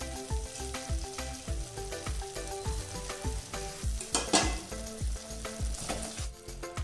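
Coconut and jaggery laddu mixture stirred in a pan on the stove, with repeated rhythmic scraping strokes and a steady sizzle over cooking; a louder scrape stands out midway.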